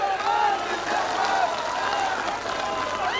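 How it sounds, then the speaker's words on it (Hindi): A crowd claps at an outdoor statue installation anniversary gathering in Hardoi, a steady, moderately distant wash of applause that carries on throughout without a clear break. "जोरदार ताली बजा करके स्वागत करिए"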